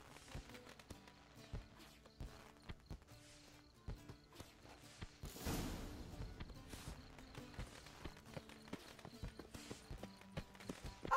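Horse hooves clip-clop in The Witcher 3, a steady run of sharp taps over music and game ambience, with a louder burst of noise midway.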